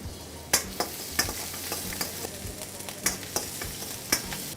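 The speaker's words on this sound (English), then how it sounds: "again we're going to drop some garlic, some julienne of ginger" Garlic and julienned ginger fry in hot sunflower oil, a steady sizzle broken by repeated sharp clicks and scrapes of stirring in the pan, with no voices.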